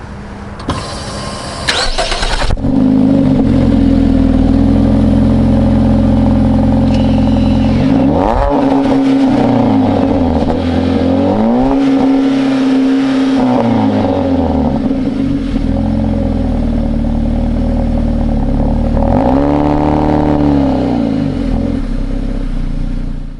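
A Jeep Renegade petrol engine and exhaust pulling hard under acceleration, a loud, close, raspy drone that rises and falls through several gear changes, with no talking.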